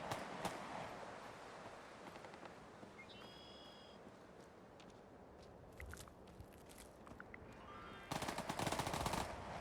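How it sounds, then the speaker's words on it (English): Rapid gunfire in the video game Fallout 4, bursts of automatic shots and scattered cracks over game ambience, growing loud and dense near the end, no talking. "Who's shooting?"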